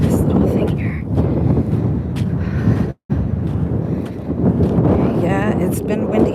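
Strong wind at the sea buffets the microphone in a loud, continuous roar, with a brief dropout midway and a voice faintly present.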